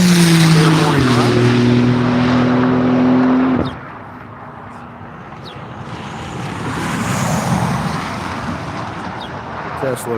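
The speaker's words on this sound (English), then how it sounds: "Comes the Goodyear Porsche, finishing up their morning run." A Goodyear-sponsored Porsche race car passes on the Grattan circuit during a morning track run, its engine loud and close at first with steady tones, then dropping away abruptly into a fainter, rougher drone as it recedes, with commentary over it.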